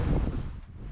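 A gentle wind blows at sea on the Indian Ocean aboard a sailing yacht, a steady, close rush of air buffeting the microphone, with no talking.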